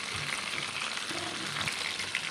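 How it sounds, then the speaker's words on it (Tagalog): Marinated pork frying in a pan for sweet and sour, a steady soft sizzle and crackle at close range, quiet and unbroken. "nakapagsalang na ako ng pinapry kong pork"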